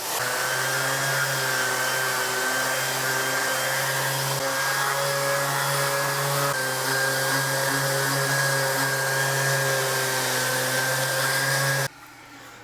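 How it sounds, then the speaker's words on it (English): An electric sander fitted with 320 grit sandpaper runs on a guitar body, a loud steady whirring hum with a faint scratchy texture that drops off near the end. "So I've got 320 grit on my sander."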